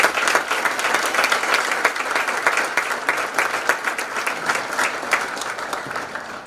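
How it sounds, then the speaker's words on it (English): A high school audience applauds at a National Honor Society ceremony, a sustained crowd of clapping hands, steady and moderately loud throughout. "I would like to give them a round of applause for their dedication"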